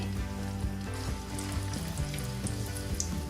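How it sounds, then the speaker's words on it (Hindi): Raisins frying in hot oil over a medium-low flame, a steady dense sizzle with scattered crackling pops, continuous and fairly close with no voices. "अब मैं इसी ऑयल में किशमिश या अपनी रेज़न्स डाल दूंगी, और इसको भी हम फ्राई कर लेंगे।"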